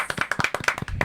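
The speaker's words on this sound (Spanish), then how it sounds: "Un aplauso, señores." Rapid clapping from an audience at the opening of a Spanish-language youth entrepreneurship program segment, a brief close burst of quick, rhythmic claps.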